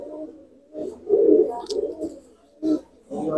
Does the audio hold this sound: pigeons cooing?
yes